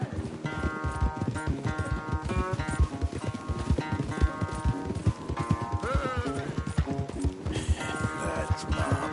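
Horses gallop hard in a race in Red Dead Redemption 2, rapid pounding hoofbeats running continuously under swelling orchestral score.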